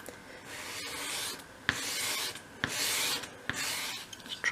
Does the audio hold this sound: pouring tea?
no